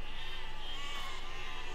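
Sheep bleating in the Besieged video game, a continuous wavering bleat held steadily for the whole short stretch amid a busy game soundscape, with no talking.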